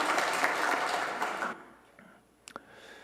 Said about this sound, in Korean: 우리 박수로 하나님 앞에 영광 돌려드리겠습니다.